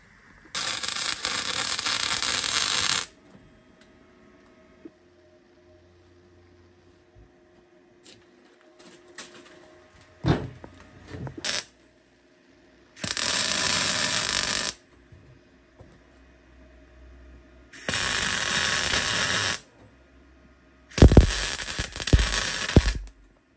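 Welding on a Nissan 180SX chassis rail in a home garage, with several bursts of crackling, hissing arc lasting a few seconds each, separated by quiet pauses and some clatter of tools.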